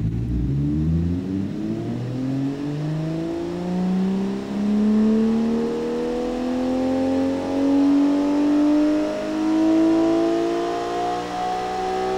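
A simulated engine from an engine design game, fitted with cast pistons instead of forged ones, revs up in one long, smooth, rising whine that climbs steadily in pitch and holds loud, with no voices.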